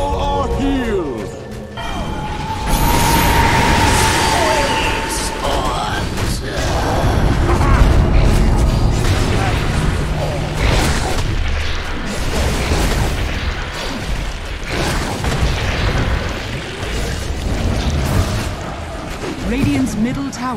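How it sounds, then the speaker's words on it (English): Dota 2 battle sounds around a tower under attack: dense, continuous clashes, pops and booms with mechanical effects, loud throughout, with an announcer-style voice over the action. "Radiant's middle tower is under attack."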